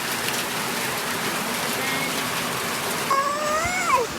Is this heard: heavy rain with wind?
yes